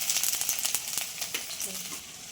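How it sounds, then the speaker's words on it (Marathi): Garlic and finely chopped ginger sizzle steadily in hot oil for a hotel-style crispy soya chilli, a dense close hiss with a few sharper crackles throughout. "तेलात पहिले लसूण टाकून घ्यायचं आहे मग अद्रक आहे बारीक"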